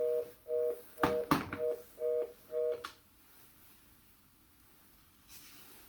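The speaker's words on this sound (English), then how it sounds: "I forgot to take the phone off the hook." A landline phone's electronic ring, short paired tonal bursts repeating about five times over roughly three seconds, then cutting off to a quiet room hiss.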